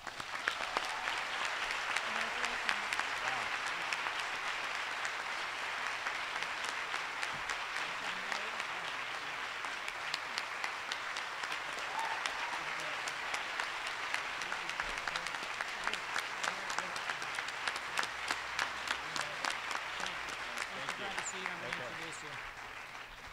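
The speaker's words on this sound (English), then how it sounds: "ask you to join in a great round of applause for a superb American leader" A large audience at a university Class Day ceremony applauds steadily for a long stretch, dense sustained clapping filling the hall with crowd murmur underneath.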